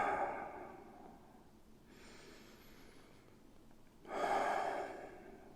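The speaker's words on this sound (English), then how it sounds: "breathing in through the nose, inflating the back, inflating the pelvis." Slow, deep breaths drawn in through the nose during a lower-back and pelvis stretch, two audible soft inhales separated by a quiet pause, close and breathy with no talking.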